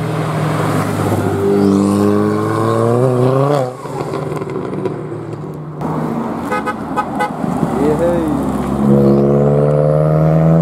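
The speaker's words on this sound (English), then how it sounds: "Well, I hope you can just hear cars." Ford cars leaving a Ford Fair 2024 car show, loud engines revving hard and accelerating away one after another with rising and falling pitch, close and continuous, a horn toot in the middle.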